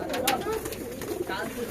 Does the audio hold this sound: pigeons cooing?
yes